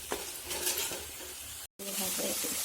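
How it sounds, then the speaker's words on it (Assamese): Spice masala fries and sizzles in oil in a pan for a fish curry, a steady hissing crackle with stirring scrapes, briefly cut out midway before the sizzle resumes, with no talk over it. "লাহে লাহে ভাজি হৈ গৈছে মছলাখিনি, দেখিছে চাইডৰ পৰা তেল এৰি আছে।"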